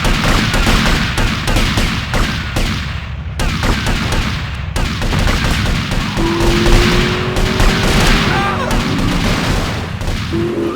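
Rapid gunfire in GTA Vice City: dense, loud bursts of automatic shots and booming impacts crowd together with brief gaps, and a tone briefly rises through the fire.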